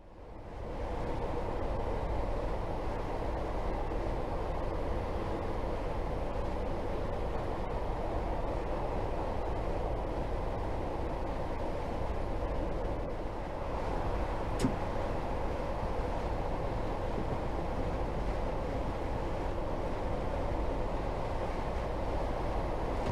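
Train running through the 418-yard Inverkeithing Tunnel on the Fife Circle Line, a steady, loud, enclosed rumble and roar that holds constant throughout with no voices.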